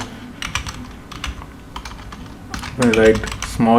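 Keys clatter on a computer keyboard as an SQL query is typed, a steady run of close taps that grows louder and busier toward the end, with no voice over it.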